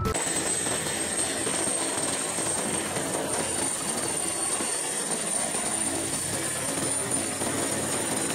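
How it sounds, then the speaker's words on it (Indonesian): Helicopter-like aircraft noise forms a steady, loud, continuous drone with a thin high whine running throughout, fitting a kids' toy or cartoon helicopter, with no talk. "Helikopter."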